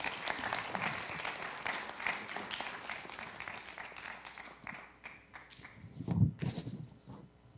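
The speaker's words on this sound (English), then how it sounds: "Let's give him a round of applause." Applause fills a ceremony marking two centuries of Mexico–US diplomatic relations, a steady round of clapping from the audience that thins out toward the end, with a few louder scattered claps near the close.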